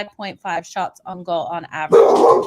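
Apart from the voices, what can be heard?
dog barking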